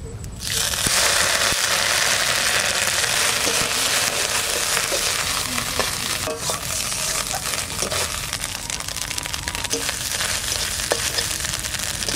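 Grated coconut fries in hot oil with bay leaf and mustard seeds for kochu shak, a dense, steady hiss of sizzling with faint scattered crackles and stirring, no voices.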